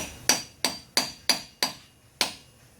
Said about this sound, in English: I got a dust cover here I'm going to take off with a chisel and a hammer